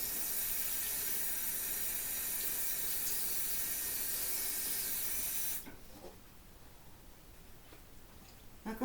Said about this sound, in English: Just wash my hands quickly.